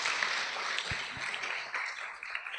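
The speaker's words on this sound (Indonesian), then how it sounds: "Tepuk tangan sekali lagi." An audience claps at a religious talk for students in Banyuwangi, a dense, continuous patter of applause at a fairly even level with a few sharper claps standing out.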